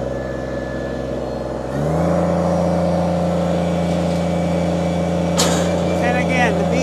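A 2012 Kubota BX2360 compact tractor engine catches and settles into a steady, loud diesel idle after a lower running drone, with a brief hiss of air later on.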